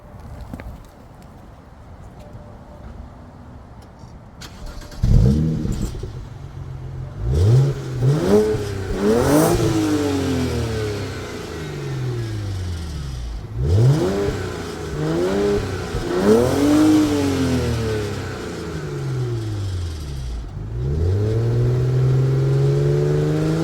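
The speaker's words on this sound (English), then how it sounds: "let me do a quick exhaust clip just for fun" A BMW 335i exhaust revs up repeatedly, engine pitch climbing and falling in several sharp bursts, then settling into a steady deeper drone.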